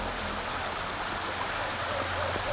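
Steady broadband rush of a waterfall in the video game Wuthering Waves, a continuous dense wash of falling water with a low hum beneath, even and sustained throughout with no voices.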